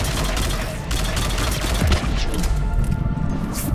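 Rapid gunfire in Mass Effect 3 Legendary Edition, dense loud bursts of shots crackling continuously with sharp impacts throughout.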